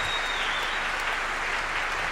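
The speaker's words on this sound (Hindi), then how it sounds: "और मैं चाहूंगा एक बार आप अपने लिए जरूर तालियां बजाएं," Dense, steady applause from an audience clapping for themselves at a direct-selling seminar, an even wash of many hands throughout the short stretch.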